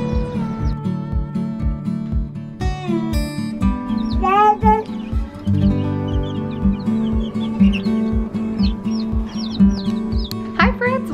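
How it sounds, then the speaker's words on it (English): Busy clucking of several chickens, overlapping and continuous, close by, with occasional higher squawks and some voices mixed in. "may or may not have bought more chickens"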